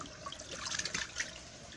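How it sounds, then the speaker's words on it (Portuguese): A filter in a fish holding tank with 150 six-month-old juvenile fish draws water out in a faint, steady rush of trickling, gurgling flow with no voices. "O filtro ele puxa mesmo, vai para fora toda a água"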